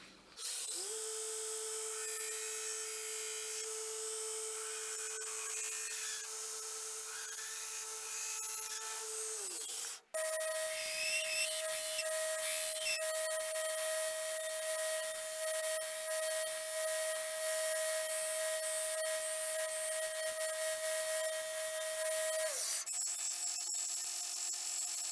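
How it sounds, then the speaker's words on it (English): A Damascus Bowie knife tang has a taper ground into it with a power grinder, giving a sustained whining grind that briefly cuts out and resumes at a higher pitch, close and continuous with no talk. "I'm going to come in here and grind our taper into this tang, get it ready to get the guard slotted and hot fit on"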